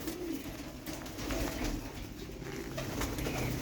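Pigeons coo steadily at close range, their low, rolling calls repeating without a break, with a light rustle of birds moving in the background.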